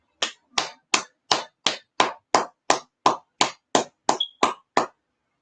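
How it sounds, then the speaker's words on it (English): About thirteen sharp, evenly spaced claps ring out in a steady unison rhythm as a class ends, each crisp and close, with no talking over them. "Let's clap it up."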